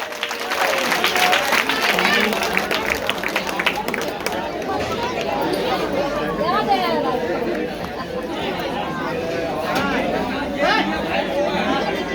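A large crowd claps and cheers for a community leader taking the stage at a Jai Bhim Ekta Samiti Ambedkar Jayanti gathering in Jahangir Puri. The noise is dense and steady, with continuous crowd chatter mixed through the clapping.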